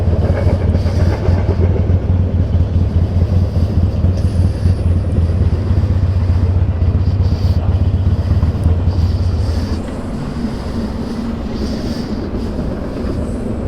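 A northbound freight train rolls past nearby, a loud continuous rumble with rail clatter that steps down in level toward the end as the cars keep passing.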